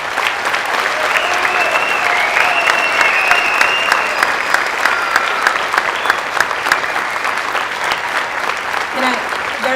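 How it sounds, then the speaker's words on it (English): Loud, sustained applause fills a school recognition ceremony for Native American students, dense crowd clapping throughout with voices and cheering mixed in beneath. "let's give them a round of applause"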